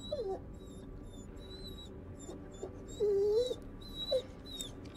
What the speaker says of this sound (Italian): Un cane.